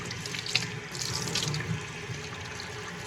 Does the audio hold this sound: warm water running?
yes